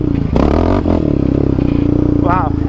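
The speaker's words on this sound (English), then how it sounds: "I can keep jabbing the throttle there and it doesn't break up." A Yamaha Raptor 700 ATV engine revs hard in third gear with repeated throttle jabs, loud and close, a rising and falling roar with clattering mechanical noise and wind over it.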